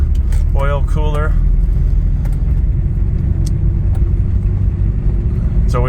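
A Toyota Land Cruiser BJ70 diesel engine rumbles steadily on a test drive around the block, a continuous close low drone with brief speech heard early on.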